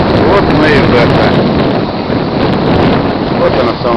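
Stormy sea on the Crimean coast at Koktebel, with a constant roar of wind buffeting the microphone and crashing surf filling the whole stretch, loud and unbroken.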